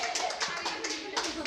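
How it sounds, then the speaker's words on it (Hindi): Class 8 students in a quiz competition clap briefly for a correct answer, a short patter of hands mixed with voices talking. "इनके लिए जोरदार तालियां हो जाए"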